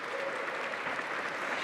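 Gala audience in New York applauding sponsors at a charity celebration, a steady, moderately quiet wash of clapping that holds evenly throughout with no talk over it.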